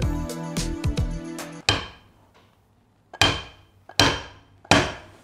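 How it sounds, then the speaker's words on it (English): A 3D-printed prototype is hammered onto metal rails: three sharp, loud, evenly spaced knocks ring out close by after a brief stretch of clattering handling, with no talking. "maybe we can sort of hammer it into it"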